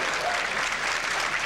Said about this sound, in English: Crowd applauding.